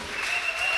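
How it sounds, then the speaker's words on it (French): A church congregation at a French-language worship service applauds in a brief, even burst of clapping, moderately loud. "Applaudissez pour le Seigneur."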